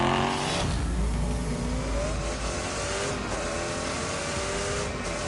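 Jaguar Project 8 race-tuned car in The Grand Tour video game accelerating hard, a loud steady engine roar with rising harmonic sweeps that holds throughout.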